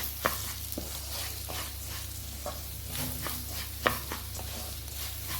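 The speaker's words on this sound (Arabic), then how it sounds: "غادي نخلط هذا الشيء" A spoon scrapes and stirs food around a hot, sizzling pan, with a steady frying hiss underneath and occasional louder knocks of the utensil against the metal, close and continuous.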